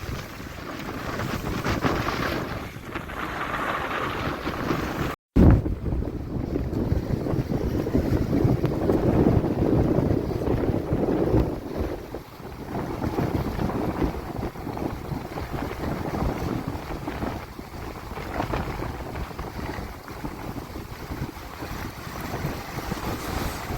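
Strong storm wind buffets the microphone while rough seawater churns and slaps constantly, a loud, steady roar with gusts and no speech, on the coast at Jaffna, Sri Lanka.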